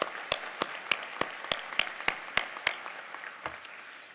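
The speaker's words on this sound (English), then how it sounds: "Let's give Victoria another round of applause," Applause at a public employees diversity conference keynote, heard as a series of sharp, evenly spaced claps, roughly one every third of a second, over a soft crowd bed that fades toward the end.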